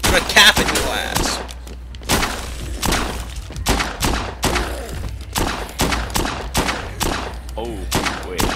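Handgun fire in the video game Dead Rising 2, a string of sharp, loud shots at irregular intervals, some in quick pairs, mixed with thuds and game clatter.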